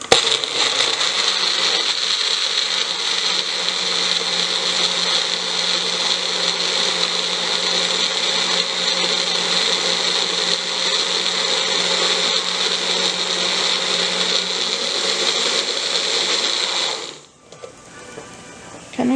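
A countertop blender whirs loudly and steadily as it purées tomato for Mexican rice, holding one even motor drone for about seventeen seconds before cutting off.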